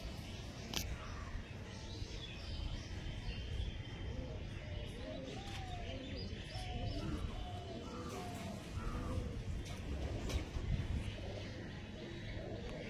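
Tippler pigeons in a loft cooing softly, a run of low rounded coos repeating through the middle with scattered faint chirps and a few light knocks over steady background hiss.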